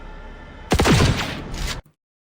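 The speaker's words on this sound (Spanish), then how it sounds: "el sonido del disparo, notamos que incluso parecieran hasta ser dos." A video game weapon gunshot sound effect: a loud, sharp blast that seems doubled, with a punchy low-end boom and a short crackling tail, cutting off abruptly into silence.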